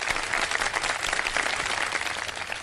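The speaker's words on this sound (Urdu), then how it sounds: "ان کی حوصلہ افزائی کے لیے بہت ساری تالیاں بجا دیجیے" Studio audience applause on a televised Ramadan iftar show, a dense steady clapping at even loudness throughout with no talk over it.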